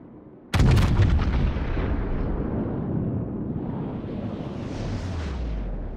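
Naval artillery from a Yamato-class battleship in World of Warships erupts in one sudden, loud salvo blast that rolls into a long, heavy rumble and sustained low thunder fading slowly, with no voices.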